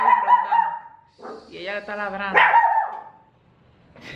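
A dog barks at home in a short, close burst of several yelps while someone talks before and after it.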